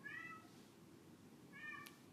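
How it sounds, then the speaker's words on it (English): A cat meows twice at moderate distance, one call at the start and another about a second and a half later, over low room hum with no talking. "And you can probably hear the cat."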